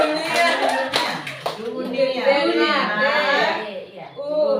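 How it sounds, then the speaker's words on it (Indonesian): A school class claps hands together in a classroom: brisk, rhythmic clapping at first, then children's voices chattering and calling out over the fading claps. "Tepuk tangan untuk Indonesia"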